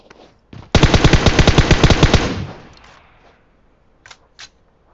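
A close, loud automatic rifle burst in PUBG Mobile, roughly a dozen rapid evenly spaced shots lasting under two seconds, preceded by a single click and followed by a fading echo and two faint clicks.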